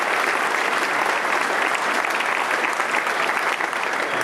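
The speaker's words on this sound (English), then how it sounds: "how about a round of applause for them?" A large crowd applauds loudly at a VA clinic opening ceremony, a thick, continuous roar of clapping hands that holds steady from start to finish.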